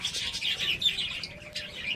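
Continuous high, thin chirping from Java sparrow chicks, busy and overlapping, with a steady low rustle underneath; no voices.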